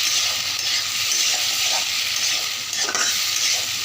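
Tomatoes and vegetables sizzle loudly in hot oil in a pan while being stirred, a dense, continuous frying hiss with a few soft scrapes, no voices.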